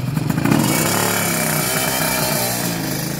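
A motorcycle engine revs hard and climbs up to fourth gear during track practice on slick 17- and 18-inch tyres, a loud, close, sustained roar with a buzzing drone that holds steady throughout.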